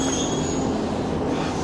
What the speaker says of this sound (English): We're going off this train and then going back on the same train.